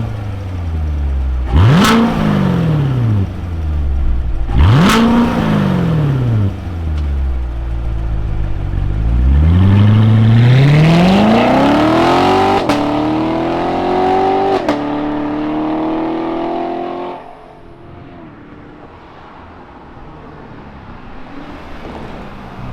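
Chevrolet C7 Corvette Grand Sport V8 firing up with a sharp crank, followed by several loud throttle blips and a long rising rev that swells and then drops back to a deep burbling idle, close and without talk.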